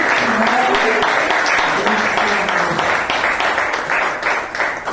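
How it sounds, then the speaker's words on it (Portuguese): A congregation claps during a Thursday evening church worship service, a continuous wash of hand claps under someone speaking loudly over the room. "A pastora com as palmas glorificando o Senhor."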